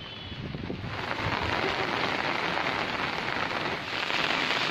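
Heavy monsoon rain pours over farm fields near Junnar and Maval, making a steady, dense hiss that stays constant with no pauses.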